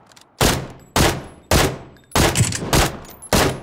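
Gunfire in the battle royale video game PUBG, six loud close sharp shots spaced roughly half a second apart, each ringing out with a short decaying tail.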